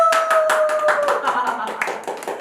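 Studio audience clapping for a guest on a Korean live-broadcast talk show, a fairly loud run of rhythmic hand claps lasting a couple of seconds, with a sustained tone and some voice mixed in underneath.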